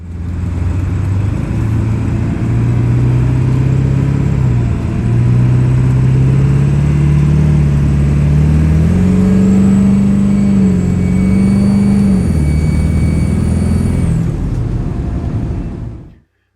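A Ford OBS truck engine runs steadily during a test drive, its low drone rising and falling in pitch as it accelerates and eases off, close and loud with no talk.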